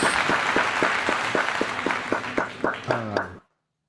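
A crowd claps together in dense applause that thins into a few loud, separate claps with a slight echo, then cuts off abruptly into silence.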